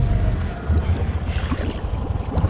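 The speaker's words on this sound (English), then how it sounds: "I just need the four-wheeler to reverse." A four-wheeler ATV pushes through deep, high creek water after rain, with close sloshing, gurgling splashes and a low engine rumble that surge unevenly over a couple of seconds.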